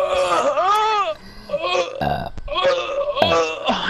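A person lets out a long, loud, deliberate burp up close, with other people talking before and after it.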